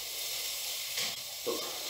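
Peppers and mixed vegetables sizzle in a frying pan as a steady, even hiss with a faint brief crackle or two, heard alone.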